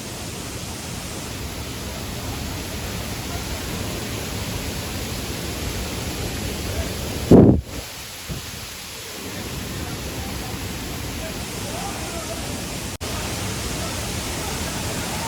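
Mangeli waterfall near Dodamarg roars as a steady broadband rush from a distance, unbroken apart from a brief loud thump midway.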